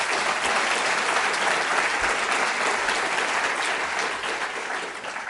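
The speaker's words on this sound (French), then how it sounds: "Je vous demande de les applaudir, s'il vous plaît." Sustained applause from a large audience, dense and steady, tapering slightly toward the end.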